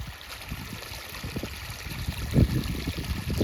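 Water pours steadily from a solar-powered borewell pump drawing from about 300 feet down on farmland, a close, continuous rushing gurgle with a few louder splashes near the middle.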